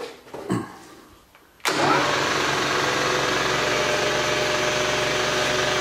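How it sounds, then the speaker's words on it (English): An Austin Healey A-type overdrive test bench starts with a sudden loud motor onset after a brief quiet stretch of faint handling noise, then runs at a steady, even whine and hum to the end. "First, we start the test bench."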